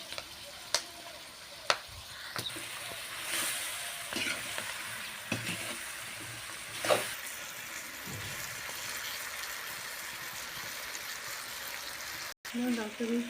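Green chilies for a pickle cook in a pan with a steady sizzle and occasional stirring scrapes, close and moderately loud, with brief clicks and knocks throughout.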